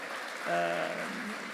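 Audience applause at a Polizia di Stato event at the Barcolana regatta, a soft, steady wash of clapping heard faintly with a voice speaking over part of it.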